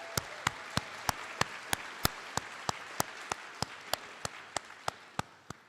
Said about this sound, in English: Now I ask if they please remain standing to enjoy the applause.